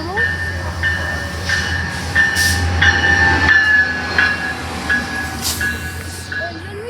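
Passenger train hauled by an F125 locomotive passing at Laguna Niguel/Mission Viejo, loud rumbling wheels with repeated high squeals and rail clatter, a voice speaking over it.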